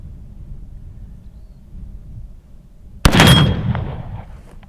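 A Remington Rolling Block rifle chambered in 43 Spanish fires one loud, sharp report, with the blast rolling off and decaying over a second or so after a stretch of quiet outdoor wind noise.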